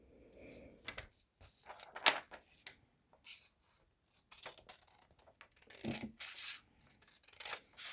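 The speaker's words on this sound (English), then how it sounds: "we'll take our scissors and we'll cut along this line right here." Scissors snip through origami paper in a few quiet, irregular cuts with soft rustling and scraping of the sheet between them, faint and close.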